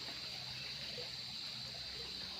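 A creek runs past a riprap bank, its water flowing in a steady, hissing rush. The sound is continuous and fairly even, close by and unbroken, with no voices over it.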